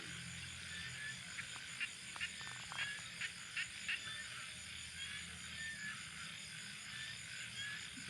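Frogs croak in a dense nighttime chorus, with steady insect-like trilling and scattered croaking calls layered over a low rumbling background, continuous and moderately distant throughout.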